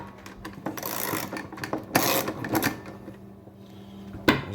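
A socket ratchet wrench works a tight nut loose on a Top-O-Matic mechanism, giving close bursts of rapid clicking and metallic rasping with short pauses and one sharp final click.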